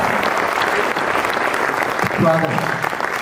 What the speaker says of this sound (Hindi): एक बार मुझे तालियों से आदेशित करिए